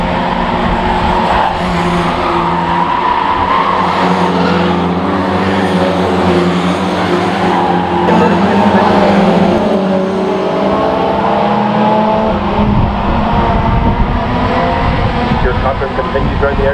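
Race cars roaring around the Tullyroan oval track with tyres skidding as one car slides sideways into the wall at turn one; loud, continuous engine drone and screeching throughout, with commentary over it.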